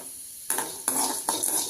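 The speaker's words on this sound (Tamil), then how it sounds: "பாருங்கள், கடலப்பருப்பு வறுபடுது." Chana dal dry-roasting in a pan for homemade idli podi, with three quick scraping stir strokes and a soft, steady crackle between them, close by and alone.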